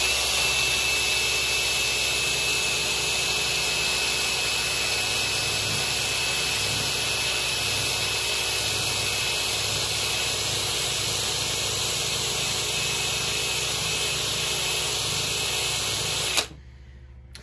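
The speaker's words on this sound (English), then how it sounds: "I put my little polisher on the drill." A continuous high-pitched whirring and hissing from a drill-mounted polisher buffing pitted chrome on a snare drum with Brasso runs steadily, then stops abruptly near the end.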